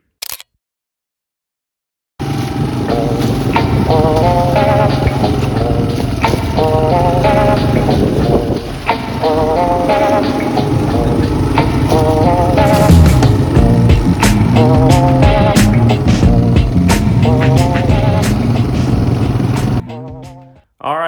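A 1986 Fat Cat being ridden, its engine droning steadily and close for most of the stretch, rising and falling slightly with throttle after a brief silent start.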